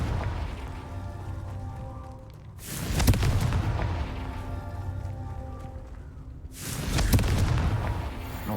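Two booming blasts of the Confringo explosion spell in the video game Hogwarts Legacy, loud and close, each a sharp burst with a long rumbling tail, about four seconds apart over a steady background hum.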